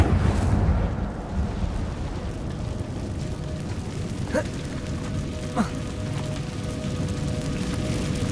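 In Hogwarts Legacy, an Incendio fire spell bursts out with a loud whooshing rush in the first second, then settles into a crackling, rumbling burn with a couple of sharp ticks and snaps along the way.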